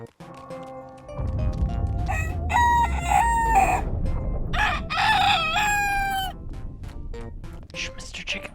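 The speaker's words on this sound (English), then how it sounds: "Shh, Mr. Chicken, we gotta be quiet" A chicken in the dark fantasy video game Dark and Darker clucks and crows repeatedly at close range, loud and continuous over a rumbling low background with no speech.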